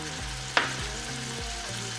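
Sliced champignon mushrooms fry in a pan with a steady close sizzle, broken by a brief sharp clatter of stirring partway through.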